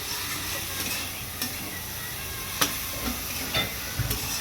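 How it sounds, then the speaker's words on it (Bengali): Spice masala being fried down with previously fried potatoes, a steady sizzle in the pan with scattered scraping and clacking of a stirring spoon, close and fairly loud. "এবার মশলাটাকে ভালোভাবে কষিয়ে নিয়ে তার মধ্যে আলু দিয়ে দেওয়া হলো, ভেজে রাখা আলু"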